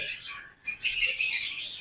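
Pet lovebirds in a breeding cage give sharp, high chirps and squawks at close range. The calls come in two bursts separated by a brief gap.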